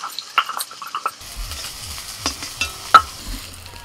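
Food sizzles in a hot pan as a metal spatula stirs and scrapes it in short, irregular strokes, fairly close, during home cooking of Poush Parbon festival dishes, with no talk.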